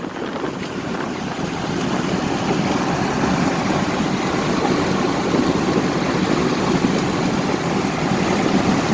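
A one-ton truck cruises in fifth gear, its steady low engine drone and road rumble continuous and close, with heavy wind buffeting over the top for the whole stretch and no talk.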